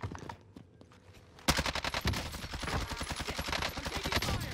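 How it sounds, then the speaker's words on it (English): Rapid bursts of automatic gunfire in the shooter Call of Duty: Modern Warfare break out after a quiet moment, then continue as a dense, loud, close stream of shots. "I'm taking fire."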